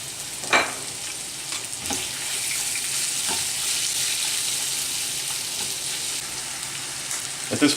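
Sausage frying in a pan and being broken up, a steady close hiss of sizzling throughout, punctuated by a few sharp scrapes and knocks of the utensil against the pan.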